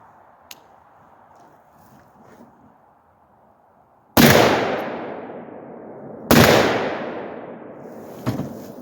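Two loud rifle shots from a .308 fitted with a Deer Creek Stealth Blast muzzle device, each a sharp blast with a long decaying echo, about two seconds apart, followed by a fainter report, with no talk.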